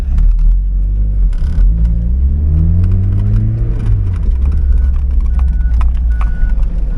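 A 2002 Mazda Miata NB Special Edition with a 6-speed manual runs and drives, its engine note rising through a rev climb then settling into a steady, loud cruise with road rumble throughout.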